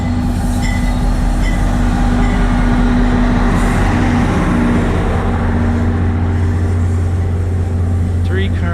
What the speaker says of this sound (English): it's a diesel train.